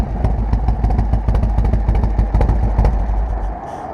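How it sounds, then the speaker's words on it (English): A 1992 Harley-Davidson Softail motorcycle idles up close with a loud, lumpy, uneven exhaust beat, then cuts off abruptly just before the end. "Idle's pretty good, and the exhaust isn't too crazy loud, but it still gives you that that Harley sound"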